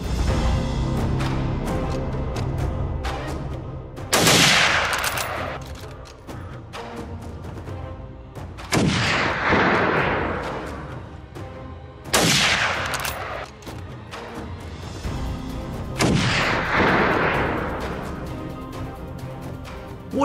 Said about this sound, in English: the sound of gunfire not only means controlling nature